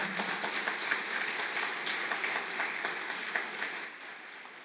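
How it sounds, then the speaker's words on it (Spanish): Church congregation at a Spanish-language service gives steady applause to the Lord, a full room of clapping with a few sharper individual claps, fading slightly near the end. "Fuerte ese aplauso al Señor."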